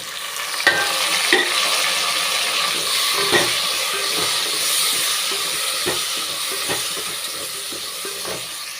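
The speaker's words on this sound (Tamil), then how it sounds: "தக்காளி வந்து லைட்டாக வதங்கிருச்சுங்க" Chopped tomatoes sauté in a pan for mushroom biryani, giving a steady broad sizzle throughout with several sharp spoon-against-pan clinks as they are stirred, close and fairly loud with no talking.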